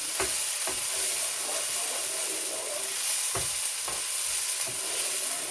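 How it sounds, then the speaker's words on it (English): Finely chopped red onions sizzle and fry in a pan, a steady bright hiss with a few soft stirring knocks throughout. "cooking those red onions until they are soft and tender"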